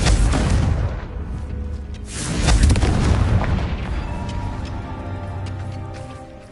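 A Confringo blasting-spell explosion in Hogwarts Legacy, a loud booming burst that swells again in a second heavy rumble, then trails off slowly over several seconds with no speech.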